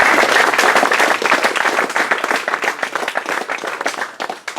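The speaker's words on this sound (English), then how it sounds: "So let's give him another round of applause." A lively round of applause at a Hobbit wargaming league awards event, loud close clapping from an audience that starts strong and gradually thins and tapers off toward the end.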